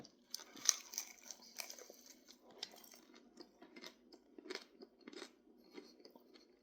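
Crunchy bites and chewing of a breaded chicken sandwich with crispy, slightly overdone bacon and spicy honey mustard, with repeated close, crackly crunches at an irregular rhythm and no talking.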